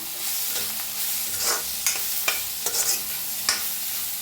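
Vegetables fry in a pan while a spoon stirs them, giving a continuous sizzle broken by several sharp scraping knocks against the pan at irregular intervals.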